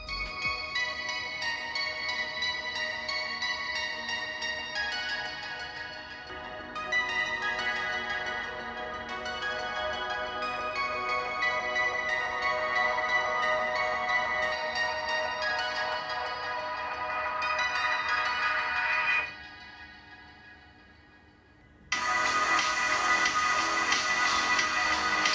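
A melodic ringtone plays loud through the dual top and bottom speakers of a Realme 9 Pro+ phone. The bright chiming phrases repeat steadily, dip quieter near the end, then return with a fuller, brighter burst.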